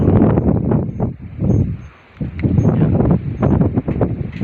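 Wind gusting outdoors in a grape vineyard during pruning, a steady broadband rush with a brief lull midway before rising again, loud and close to the microphone.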